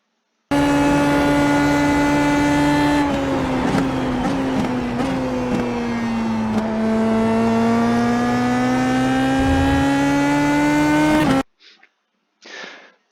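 Race car lapping Suzuka in the iRacing sim, a loud continuous engine whine rising and dropping through gear shifts and corners with brief clicks, then cutting off into near silence with a short faint burst at the end.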